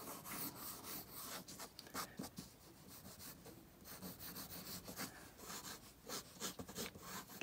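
A pencil moves over paper while a shark is drawn loosely, giving irregular, close rubbing and scratching strokes in quick bursts with no voice.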